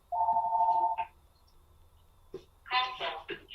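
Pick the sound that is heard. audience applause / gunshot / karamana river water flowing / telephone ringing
telephone ringing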